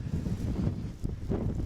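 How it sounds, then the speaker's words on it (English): Strong wind gusts sweep across the Coachella Valley desert, buffeting the microphone with a steady, loud low roar that surges and dips over a couple of seconds, with no voices. "Powerful wind gusts whipping through the desert"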